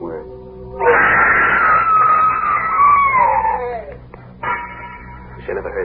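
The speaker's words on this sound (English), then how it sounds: "I never heard that scream." A loud, drawn-out scream from an old-time radio thriller drama rises suddenly, holds as a wavering wail for about three seconds, then trails off, followed by a shorter cry near the end.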